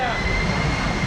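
A Boeing 747-400 airliner landing with its thrust reversers deployed, a loud, steady, close jet-engine roar filling the whole second without a break.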